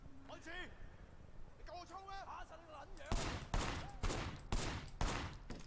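Gunfire in the video game Sleeping Dogs inside a warehouse: after a stretch of talking, a series of loud, sharp shots rings out in a rough rhythm, roughly six blasts spaced under a second apart.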